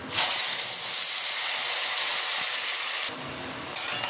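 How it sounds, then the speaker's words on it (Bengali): Black cumin seeds, ground spice paste, tomato and green chilli hitting hot mustard oil for a Bengali tangra fish curry, giving a loud, steady broadband hiss of sizzling that drops briefly near the end, with no talking. "এরপর দিয়ে দেবো বেটে রাখা মশলা, টমেটো আর কাঁচা লঙ্কা।"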